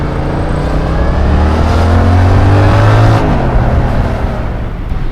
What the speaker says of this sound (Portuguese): Quando eu puxar pela moto, vocês vão ouvir